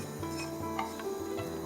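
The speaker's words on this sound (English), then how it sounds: "And just heat it till the mustard seeds starts crackling." Mustard seeds crackling in hot oil in a pan for a Maharashtrian dish, with faint irregular pops and light sizzling alongside soft scraping of a spoon against the cookware.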